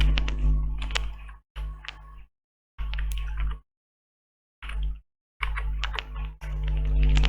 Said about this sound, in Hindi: तो अब हम लिखते हैं नंबर। इसके बाद लिखते हैं पासवर्ड।